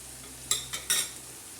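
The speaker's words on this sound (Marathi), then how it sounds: "आता कोथंबीर टाकलेली आहे ती चांगल्याशी परतून घ्यायची" Dal and onion with fresh coriander being sautéed in a pan, heard as three short scraping stir strokes with faint sizzle, close and fairly quiet.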